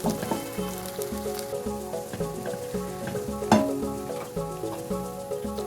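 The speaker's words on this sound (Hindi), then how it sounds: "तो सबसे पहले हमने एक मीडियम साइज़ की प्याज ली है जिसे बारीक चॉप कर लिया है। इसको हल्का सा फ्राई करेंगे" Finely chopped medium onion frying lightly in a pan, a steady soft sizzle with occasional pops and stirring, close and fairly quiet, with a faint rhythmic hum underneath.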